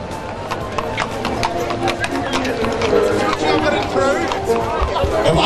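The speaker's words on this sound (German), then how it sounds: "Im Anschluss haben wir zwei ganz schicke Pferde," Horses' hooves clip-clop at a parade, a steady run of sharp knocks heard through loud crowd chatter while someone talks over the scene.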